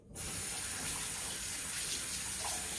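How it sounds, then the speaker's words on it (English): Running tap water rinses a Suzuki Sirius bass harmonica during cleaning, a steady close hiss of flowing water that starts abruptly and continues evenly. "I will use soap and water to get in on the channels, like this."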